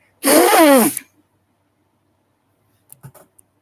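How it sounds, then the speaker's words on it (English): A single forceful nose blow, loud and close, followed by silence and a few faint rustling sounds. "Let me blow my nose again"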